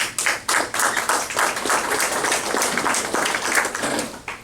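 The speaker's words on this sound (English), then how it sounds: "I think we need to applaud their work." An audience at a sheriff candidates' forum claps, a loose, moderately loud patter of many hands that holds steady for a few seconds before tapering off.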